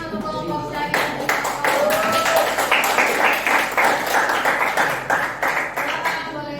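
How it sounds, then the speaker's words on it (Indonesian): An audience claps for a group presentation at an academic supervision session, with a steady patter of many hands lasting several seconds and a voice speaking over it. "Kasih tepuk tangan untuk kelompok saya."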